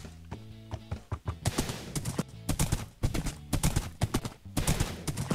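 Minecraft horse hooves clip-clop in quick, uneven bursts of loud, close hoof strikes with brief pauses between them while the horse is ridden.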